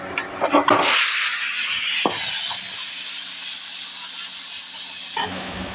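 A few knocks, then a loud, sustained hiss of steam escaping from a pressure cooker boiling yardlong beans that stays steady for several seconds before cutting off.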